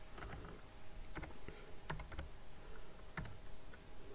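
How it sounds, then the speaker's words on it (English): Someone types a colour code on a computer keyboard, producing a few scattered, close key clicks and short bursts of taps against a quiet room. "I'm just going to type that in."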